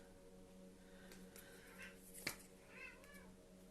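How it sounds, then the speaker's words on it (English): A house cat meows several times indoors, short, fairly quiet whiny calls over a low steady hum in a quiet room. "Excuse my cat."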